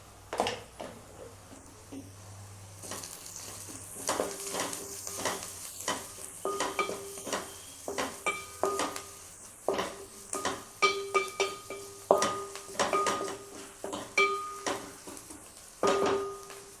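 A pan of chutney being stirred as turmeric goes in, with repeated scraping strokes of a spoon against the pan over a steady sizzle of frying, close and moderately loud, with no talking.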